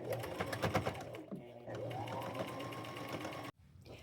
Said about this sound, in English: Just take it to my sewing machine, do a back stitch up through here